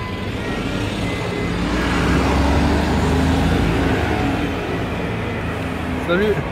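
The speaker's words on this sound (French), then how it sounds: "Et là, une petite Lamborghini Urus qui vient de Suisse." A Lamborghini Urus with Swiss plates drives past on a busy Cannes street near the Hôtel Majestic Barrière. A broad rush of engine and road noise swells and fades over city traffic.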